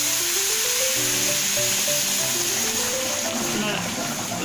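Hot water hits fried rice in a pan, setting off a loud, steady sizzle and bubbling hiss that fills the whole span, with a voice talking over it.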